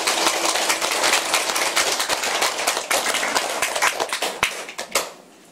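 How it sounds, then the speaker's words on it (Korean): Audience applause in a hall during a temple opening Dharma service, dense sustained clapping from many hands, loud and steady before tapering off at the end. "박수 한번 칩시다."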